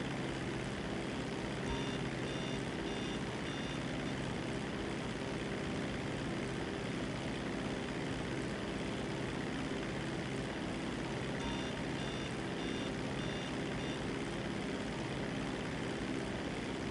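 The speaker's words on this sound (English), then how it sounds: "You hear that beeping, it's warning you that you're flying too high" In GTA 5 Online, an aircraft's high-altitude warning beeps faintly in repeating bursts over a steady, loud engine drone during flight.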